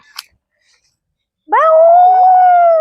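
A person's voice imitates a jackal howl, a single long sustained wavering call, loud and close, following a brief faint click.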